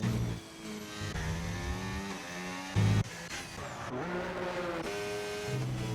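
A race car engine in a racing video game revs and accelerates across the finish line at a Texas circuit, its harmonic whine rising and shifting through gear changes, with a brief louder burst midway.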